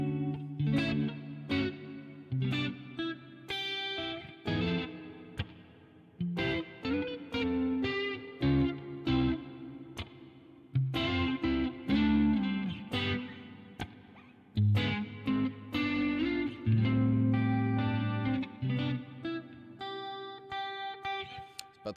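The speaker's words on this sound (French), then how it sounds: "Ok, reverb, guitare." Electric guitar played through heavy reverb and effects, a run of plucked notes and chords with long washy tails and some distortion, rehearsing solo lines with no talking over it.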